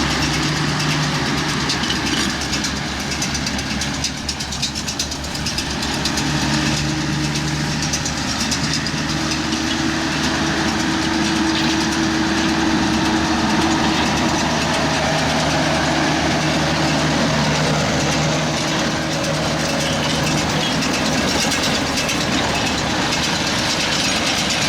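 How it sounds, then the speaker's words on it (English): A tractor engine idles loudly and steadily throughout, a continuous low rumble with a broad mechanical hum as a baler arrives during baling of second-cut silage, near and dominant with no voices. "Oh, the baler's just turned up, the baler's just turned up."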